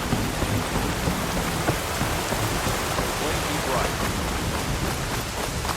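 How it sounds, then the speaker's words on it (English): Steady, heavy rain in the video game Horizon Forbidden West pours down in a dense, even hiss with no break, filling the whole scene. "Rain's drowning out other sounds."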